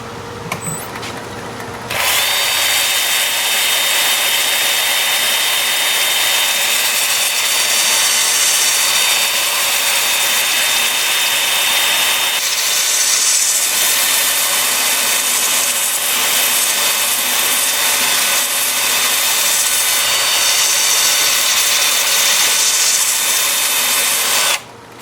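A power sander grinds bark off a turned juniper wood vase, a loud steady whir running almost continuously and alone, with slight shifts in pitch and pressure as it moves over the wood.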